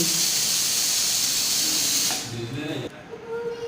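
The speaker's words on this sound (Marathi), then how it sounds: "आता कुकरला झाकण लावायचं आणि शिट्ट्या देऊन घ्यायच्या छानपैकी" A pressure cooker cooking masale bhat lets out a loud, steady hiss of escaping steam for about two seconds, then cuts off into softer rattling and low kitchen noise.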